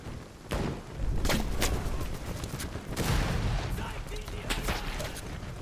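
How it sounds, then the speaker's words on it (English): Rifle shots crack through a World War I trench battle in Over The Top: WWI, several sharp gunshots and distant booms scattered over a few seconds, moderately loud amid battlefield din, with speech faintly present. "He's like, F this, and just started shooting at me."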